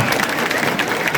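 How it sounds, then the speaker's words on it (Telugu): Sustained crowd clapping at a political rally in Kothuru during a benefits distribution event, a dense, even wash of applause filling the whole moment with little talk. "ఈ చప్పట్లు ఇంకా పెద్ద సౌండ్ రావాలా"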